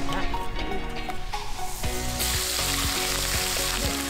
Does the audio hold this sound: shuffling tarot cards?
no